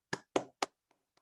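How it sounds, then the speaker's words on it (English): A few sparse claps for the academic scholars at a college awards ceremony: three quiet, sharp hand claps in quick succession, then faint ticks into silence. "We all take a minute to applaud you, congratulate you, and thank you for your service to our college."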